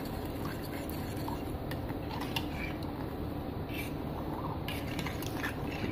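A spoon steadily stirs fresh milk mixed with corn starch and sugar for a banana cake, giving a continuous soft swishing with light scattered clinks against the bowl throughout.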